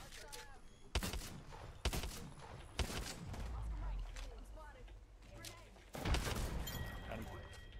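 Gunfire in the video game Apex Legends during a ranked match: sharp shots and bursts at irregular intervals, some loud and close, others fainter, with players talking throughout.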